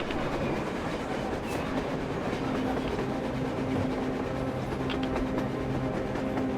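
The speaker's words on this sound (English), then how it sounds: "A train! A damn train on the surface!" A train rumbles past at steady volume in Metro Exodus, with rolling wheel noise and faint clacking, under a low hum, with no voices.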